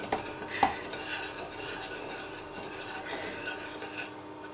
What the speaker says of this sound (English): You can hear it scraping.